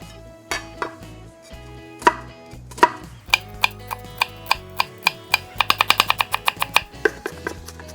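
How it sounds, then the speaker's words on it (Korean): A knife finely chopping half an onion on a board, starting with scattered cuts and building into a fast, steady run of crisp, close taps. "다음으로 양파 반 개, 잘게 다져줄게요"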